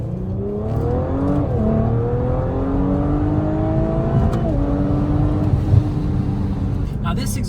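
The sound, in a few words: Audi RS5 B9 V6 with full Valvetronic exhaust revving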